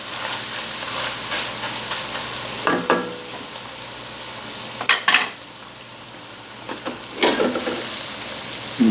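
Onions cooking in a hot pan for Cajun jambalaya, a soft steady sizzle with a few louder bursts of crackling when the food is stirred or moved.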